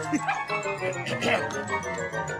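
A dog barks and yips in short bursts, close by, mixed with overlapping voices and background commotion.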